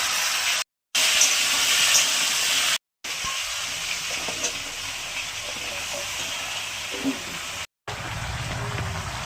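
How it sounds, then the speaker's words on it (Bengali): Vegetables sautéing in hot oil seasoned with dried red chillies, panch phoron and bay leaves for a Bengali pui shaak chorchori, a steady broadband hiss with occasional stirring clinks, broken by brief cuts. "সবজিগুলো আগে দিয়ে একটু কষিয়ে নেবো"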